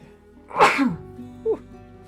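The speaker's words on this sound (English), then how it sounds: "Sorry about that sneeze." A single sharp sneeze bursts out close by, followed by a brief sniff or small vocal noise a moment later.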